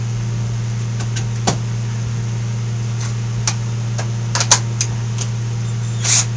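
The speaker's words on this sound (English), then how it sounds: "That noise you can hear, by the way, is a fan." A fan cooling a bench grinder gives a steady, low mechanical drone throughout, with a few faint clicks and ticks on top and no talking.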